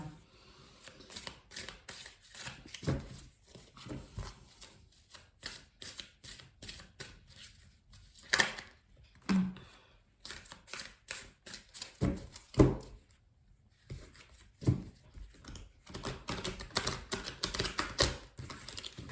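Tarot cards shuffled, cut and spread out by hand, a soft run of quick riffling and slapping bursts with brief pauses, close and fairly quiet, with no voices.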